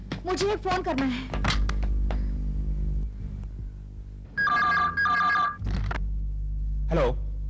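An old telephone in a 1994 Hindi crime serial rings in two short electronic bursts after a stretch of speech and low hum, with a brief voice following.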